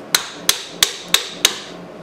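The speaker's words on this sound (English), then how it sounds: "He closes his vise with hammers." Hammers strike a metal vise to close it in a home workshop, giving six sharp, evenly spaced metallic blows with short ringing decay, close and clear with no talk.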